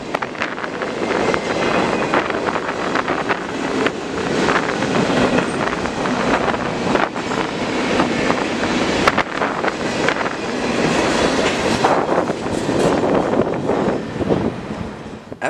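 A train rumbles past close by, a continuous roar with rattling and wind buffeting the microphone throughout.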